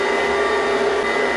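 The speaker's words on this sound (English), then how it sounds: "you're mixing it at a speed level between of medium to high speed, depending on the power of your mixer" An electric mixer beats cookies-and-cream cake batter at medium to high speed, a steady close whirring hum with no pauses.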